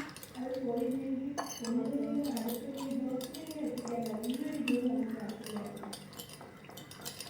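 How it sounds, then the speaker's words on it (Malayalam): A spoon clinks and scrapes against a bowl as yeast is stirred into pizza dough ingredients, with steady mixing sounds under continuous talking. "ഇനി നമുക്ക് ഇതൊക്കെ ഒന്ന് മിക്സ് ചെയ്ത് കൊടുക്കാം."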